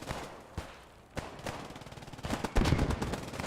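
Bursts of machine gun fire in the World War II shooter Post Scriptum crack out in irregular volleys, growing denser and louder toward the end amid a distant battle din.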